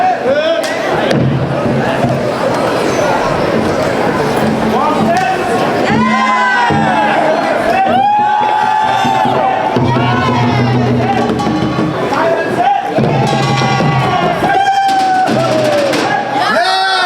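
A crowd at a Lunar New Year celebration cheers, whoops and shouts continuously and loudly, with layered voices rising and falling in excited bursts throughout the performance.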